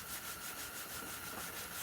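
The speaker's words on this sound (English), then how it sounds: "hand sanding" Hand sanding a forged knife blade with abrasive paper, a steady scratchy rubbing that repeats in quick back-and-forth strokes, close and fairly quiet, with no talk.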